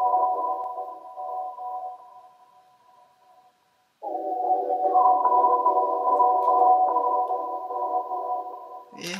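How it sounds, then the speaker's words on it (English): Synth choir pad in a trap beat with a gate effect, sustained vocal-like chords that fade, cut to silence, then return fuller and steady, heard alone without drums. "I kind of changed up this little choir sound, kind of added some gate into it."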